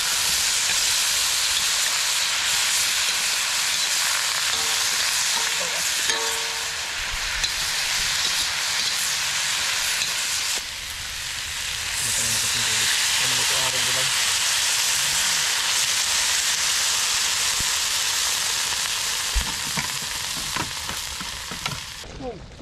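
Eggplant frying in a pan, a steady broadband sizzle and hiss running throughout with occasional stirring clatter and faint background voices.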